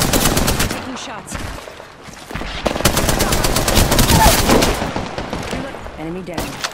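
Rapid automatic gunfire in the video game Apex Legends, loud and dense bursts of shots running almost continuously with brief lulls, close-up and dominating the mix.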